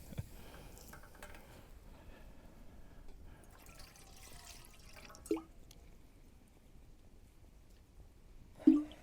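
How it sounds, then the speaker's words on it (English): Water being used to rinse out a camping pot outdoors, quiet drips and small splashes over faint background noise, with a couple of louder sloshes near the middle and end. "I'm gonna rinse this out just a little bit."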